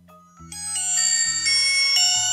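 Electronic ringtone played through the small speaker of an AIEK phone, a bright stepped melody of clear tones rising over about two seconds, close and alone.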